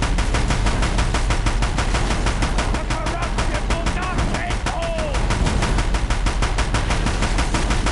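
Rapid automatic gunfire in Horizon Zero Dawn on PS5, a loud, steady stream of evenly spaced shots lasting throughout, with faint tonal game effects mixed underneath.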